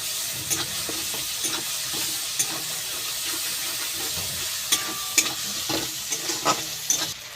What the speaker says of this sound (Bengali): আদা বাটা, এটাও আবার ভালো করে ভেজে নেব।